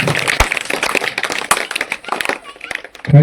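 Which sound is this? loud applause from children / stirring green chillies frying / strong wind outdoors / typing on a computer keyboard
loud applause from children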